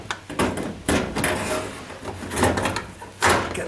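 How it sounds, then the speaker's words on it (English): A tumble dryer motor is slid into place and seated onto its brackets, giving a few close, knocking clunks and scraping metal-on-metal contact in short bursts. "So slide the motor in"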